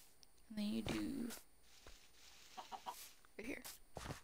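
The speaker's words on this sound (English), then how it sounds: "That is a cute chicken. Hey, chicken." A Minecraft chicken clucks loudly in a short burst near the start, followed by scattered fainter game noises and quieter clucks.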